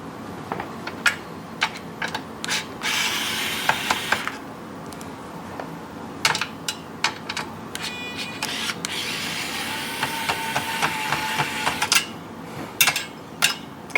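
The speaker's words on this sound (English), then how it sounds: "So we're going to take the screws off that are holding the RF shield down." Screws being backed out of the RF shield on a 3DO console with a screwdriver, giving a run of close, sharp metallic clicks, scrapes and ticks in irregular bursts over a steady background hiss, with no talking.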